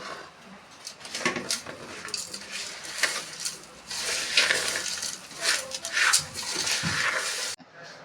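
Jaggery syrup is poured into a pot and stirred, with clinking metal utensils, scraping and sloshing at close range, plus a brief dog whimper.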